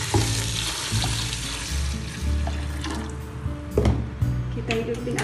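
A liter of water poured onto sago pearls in a cooking pot, a splashing, bubbling rush of liquid with clinks of the container, close and fairly loud, with some soft background voice.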